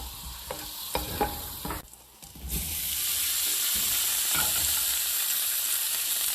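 Garlic and dill being stirred through sautéed vegetables in a pan, with a few scraping knocks early on, then a steady, fairly loud frying sizzle that fills the rest.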